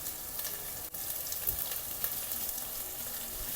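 Onions frying in a pan for an Anglo-Indian meatball stew: steady close sizzling with a faint crackle and a brief stirring knock, continuous throughout with no voices.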